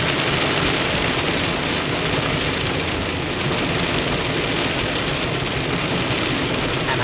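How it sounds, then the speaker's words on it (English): Steady, dense downpour of heavy rain drumming continuously, with a low rumbling engine hum underneath throughout. "It is downpour now."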